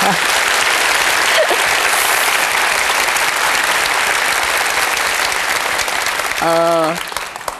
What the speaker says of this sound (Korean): 용기 낸 저한테 여러분들 박수 한번 부탁드립니다